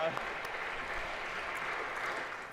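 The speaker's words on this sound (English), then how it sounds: "I think we've withheld our applause long enough." A lecture-hall audience at Harvard's CS50x final week applauds in a steady, dense wash of clapping that holds evenly throughout and tapers slightly at the end.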